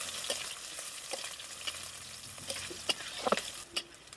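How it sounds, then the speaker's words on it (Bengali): Crushed garlic and slit green chilies fry in hot oil, giving a steady sizzle with occasional sharp pops and a few stirring scrapes near the end. "এখন রসুন আর লঙ্কাটাকে ভালো করে ভেজে নেব।"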